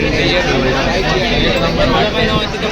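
A packed crowd of Indian cricket fans fills a train, a dense, constant babble of many overlapping voices close around, loud and unbroken throughout.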